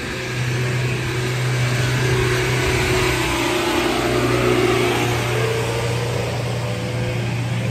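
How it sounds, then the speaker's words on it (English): A big truck passes on a road in the rain, its engine giving a loud, steady low rumble and whir close by that carries on for the whole stretch with no voices. "there's a whole big truck"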